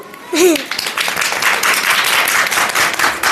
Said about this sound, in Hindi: तो एक बार ऐसे गुरु के लिए ताली बजा दो